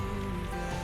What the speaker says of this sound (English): It started to rain, which I knew it was gonna rain.